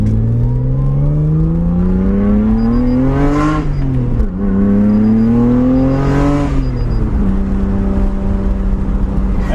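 Nissan R32 Skyline GT-R engine revving up hard twice, each pull rising steeply in pitch before dropping back to a steady idle, loud and close with no talking.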